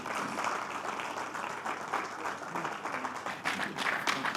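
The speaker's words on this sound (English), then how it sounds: "can we give a round of applause one more time to our speaker?" Audience applauding a speaker at a citizens' town hall meeting in Delta, with dense, steady clapping from a large crowd that swells slightly toward the end.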